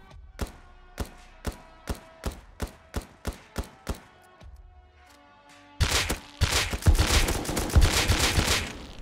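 A P2 pistol in the game Rust fires about ten evenly spaced, sharp shots in a steady rhythm, followed after a pause by a loud, dense flurry of rapid overlapping gunfire.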